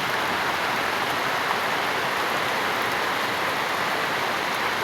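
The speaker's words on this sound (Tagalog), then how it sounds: "At grabe ang ulan talaga." Heavy rain pours down in a dense, steady roar with no letup, a constant wash of hissing water filling the whole scene.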